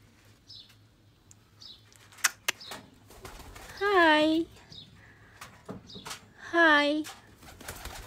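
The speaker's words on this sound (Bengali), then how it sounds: "দেখো আমাদের কবুতরগুলো কিন্তু অনেক সুন্দর" Pet pigeons flutter and flap their wings in short bursts, then give two deep, rolling coos up close, while a person speaks nearby.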